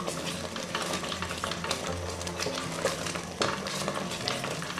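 Thick peanut paste sauce for a Congolese smoked fish dish is beaten and stirred in a pot, giving a steady close scraping and sizzling texture throughout.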